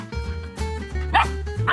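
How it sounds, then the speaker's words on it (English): A pet dog on a homestead gives a couple of short, fairly close barks over a steady low background hum, with brief yips rising near the end. "He only barks whenever he wants something."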